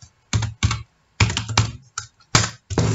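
Typing on a computer keyboard while coding, with quick clusters of clicky keystrokes in short bursts separated by brief pauses, close and clear with no voice.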